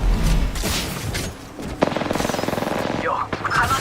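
Automatic gunfire in Apex Legends, a fast rattling volley of shots up close, preceded by a jumble of game effects and a momentary lull.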